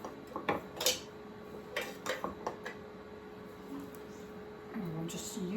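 A utensil scrapes scone dough out of a mixing bowl, giving a few soft scrapes and light clinks against the bowl, quiet and close, with brief pauses between strokes.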